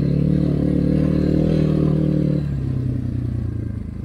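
A Kovi Max 300 enduro motorcycle engine revs in a steady loud buzz as the bike slides sideways on wet forest ground, then drops to a lower, rougher drone.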